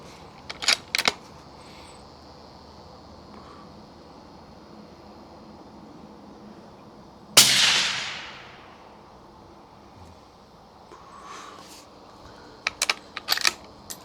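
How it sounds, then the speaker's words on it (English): A single Savage 6ARC rifle shot cracks out sharply mid-clip and trails off in a fading echo, with a few faint clicks before and after against quiet outdoor background. "Let's shoot one more"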